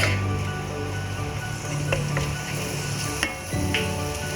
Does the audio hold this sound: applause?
no